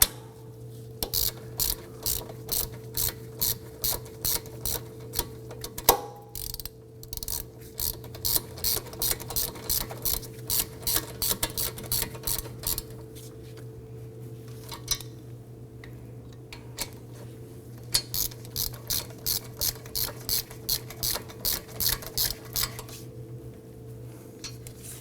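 A ratchet snugs down front brake caliper bolts on a 2003-2014 Volvo XC90, sounding as repeated bursts of rapid close metallic clicks with short pauses between strokes, over a steady background hum.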